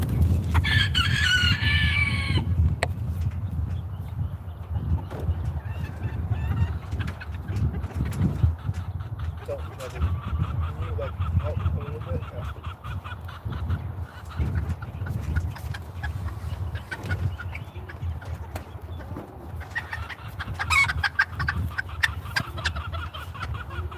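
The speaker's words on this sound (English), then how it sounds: "Haiku is a buff Japanese bantam" A buff Japanese bantam hen clucks and murmurs steadily for a long stretch, close by over constant low background rumble, with a brief brighter call near the start.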